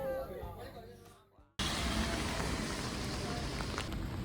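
Steady rain pouring down outdoors on a street in Korea, a dense hiss of drops hitting surfaces that starts abruptly after a moment of quieter sound and continues evenly and fairly loud.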